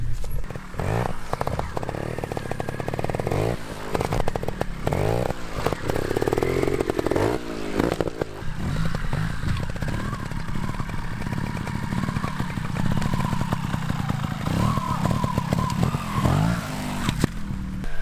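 A trials motorcycle rides over a fallen tree on rural property, its engine revving in repeated bursts and blips with clattering, close and loud throughout.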